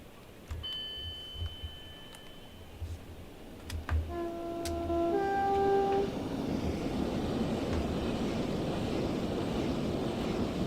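A train in the Train Sim World 2 Southeastern High Speed route passes by, its roar swelling into a steady rumble, with a brief two-tone horn-like chime partway through and faint clicks early on.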